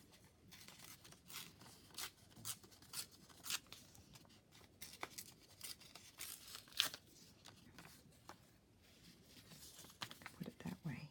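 Paper is torn by hand while preparing a Christmas journal, in a series of short, faint ripping and rustling bursts at irregular intervals, with quiet handling noises between them.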